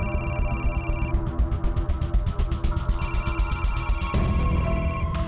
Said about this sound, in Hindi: प्रकाश सर का फोन है